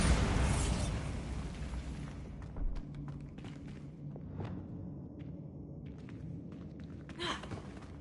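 A Bombarda spell explodes in the video game Hogwarts Legacy: a loud burst opens, then a rumbling blast decays while smaller thumps and debris pops follow, with another sharp hit near the end.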